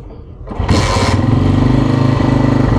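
A motorcycle engine cranks and catches, then settles into a loud, steady, throbbing idle close by.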